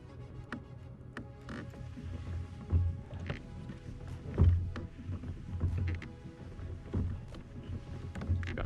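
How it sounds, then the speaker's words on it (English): A kayak glides through calm water with soft, faint paddle strokes and splashes in a loose rhythm, punctuated by occasional hollow knocks against the hull. "We're just paddling back to the spot now."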